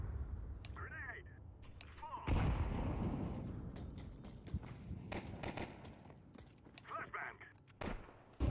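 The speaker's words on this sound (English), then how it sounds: "Grenade." Grenade explosion in Counter-Strike: one loud, near blast bursts out and slowly decays, set among sparse clicks, footsteps and quieter game noises before and after.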